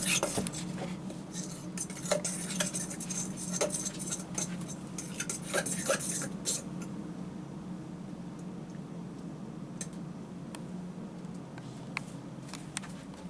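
Lemon cake batter being mixed in a bowl, a steady close scraping and clinking of utensil against the bowl, busier in the first several seconds and then settling into a softer continuous churn.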